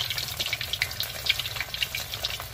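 Battered chicken and potatoes fry in hot oil at home, a continuous close crackling sizzle with bursts of popping and no talk.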